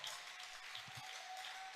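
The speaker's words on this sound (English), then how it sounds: "Clap for Jesus." A church congregation claps for Jesus in a faint, distant wash of applause, steady and even with no talk over it.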